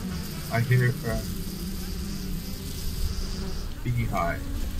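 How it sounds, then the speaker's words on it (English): Bees buzz around a beehive in the game Middle-earth: Shadow of Mordor, a steady insect drone layered over game ambience, with brief voice-like sounds near the start and end. "beehive."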